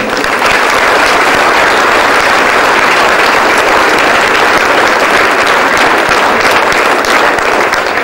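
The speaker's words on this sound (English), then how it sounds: "we applaud all of them as well tonight" Sustained, dense applause from a large crowd at a county final replay celebration, loud and steady throughout with no talk over it.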